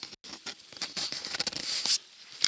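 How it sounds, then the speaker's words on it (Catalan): Water dripping through roof leaks in a mountain shelter, a patter of irregular close drops and soft taps with brief louder splashes, no talk. "Així no és que està plovent, sinó són les goteres."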